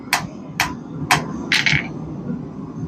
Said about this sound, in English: Hammer it down into a point.